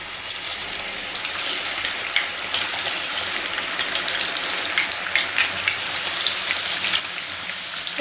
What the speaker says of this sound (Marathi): मीडियम गॅसवरती आपल्याला ही सोयाबीन वडी आता कुरकुरीत होईपर्यंत तळून घ्यायची आहे